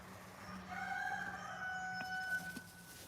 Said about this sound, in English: the loudest things out here are my stupid roosters